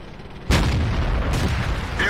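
SU-122A Soviet artillery gun firing in the World of Tanks video game, one sudden loud boom followed by a rumbling sustained roar that fades slowly.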